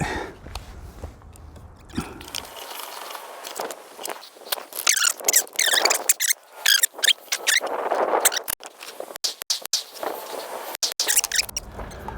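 Rounds clicking and scraping as they are pushed one by one into a 30-round AK magazine of a PSA GF3 rifle, a dense run of close metallic snaps and rattles with no talking.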